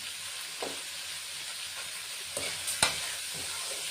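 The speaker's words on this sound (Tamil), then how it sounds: "உப்பு சேர்த்து நல்லா வதக்கி விட்டுறலாம்." Curry ingredients with salt sauté in a pan, a steady close sizzle broken by several soft stirring scrapes and one sharper clink of the spoon.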